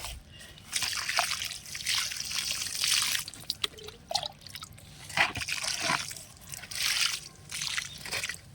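Water poured over plants in a home garden after they have been fertilised, a steady trickling and splashing that swells and eases in several bursts, with a few brief drips between them and no talking.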